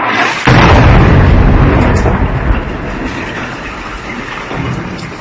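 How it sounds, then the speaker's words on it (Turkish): Artillery fire striking a town in Syria, a loud booming blast followed by a long rumbling, rolling echo that slowly fades. "Suriye'de Esad rejimi Ayha kasabasında topçu saldırısı gerçekleştirdi"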